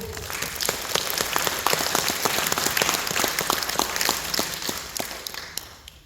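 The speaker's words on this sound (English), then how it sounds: "So please give yourselves a round of applause." An audience claps in a sustained round of applause, dense overlapping hand claps filling the space at steady loudness before tapering off near the end, with no talk over it.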